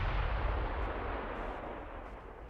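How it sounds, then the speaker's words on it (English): Small secondary guns on a warship firing in the naval battle game Ultimate Admiral: Dreadnoughts, a dense rumbling wash of distant booms that runs continuously and fades slightly. "Fire away with those tiny guns."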